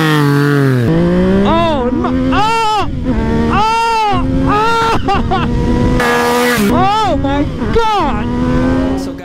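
A Yamaha MT-09 motorcycle engine revs repeatedly, its pitch climbing and falling in a series of loud, close throttle blips with plenty of low-end grunt, while a person exclaims over it.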